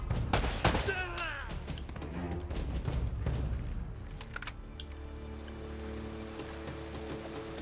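Warning shots fired in the Uncharted: Drake's Fortune video game: a rapid fusillade of sharp gunshots crowding the first few seconds, thinning to scattered cracks before settling into a steady low hum.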